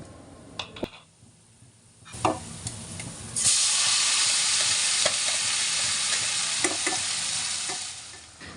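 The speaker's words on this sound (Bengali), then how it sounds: "এখন আমি সুটকি ভুনা করব" Dried fish and onions being stirred in hot oil: a few sharp utensil knocks, then a loud, steady sizzle rising and holding, with occasional scraping strokes, close by.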